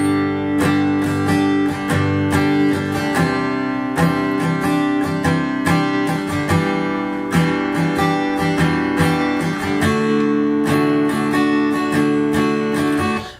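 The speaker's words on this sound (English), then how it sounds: "I'll give you a strumming pattern to kick you off." Acoustic guitar strummed through the chords of a song in a steady down-and-up pattern, close and full, with regular accented strokes and ringing chord changes throughout, no talking.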